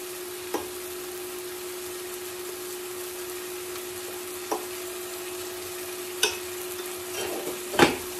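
Chicken and vegetables in a stir fry sizzle softly in a pan under a steady low hum, broken by a few sharp utensil clacks and scrapes as they are stirred, louder near the end.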